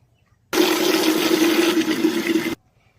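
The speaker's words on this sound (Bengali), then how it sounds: "আমি এইভাবে এগুলো গোছ করে ধুয়ে নেব, তাহলে এগুলো উল্টো পাল্টা হবে না। ভালো করে ধুতে হবে।" Tap water runs in a steady, close stream for about two seconds as coriander leaves are washed in a kitchen, then stops abruptly.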